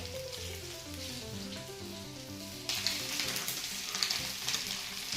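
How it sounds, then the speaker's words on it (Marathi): Potatoes frying in hot oil give a steady, close sizzle beneath background music, growing noticeably louder and crackling more partway through. "तेलामध्ये बटाटे फ्राय करून घेऊया आपण"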